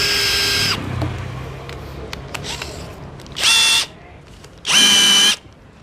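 A cheap NRT Pro DC 740 cordless brushless impact drill in drilling mode at speed 1, fitted with a 1-inch spade bit, whines loudly in three separate bursts, with quieter rattling between them.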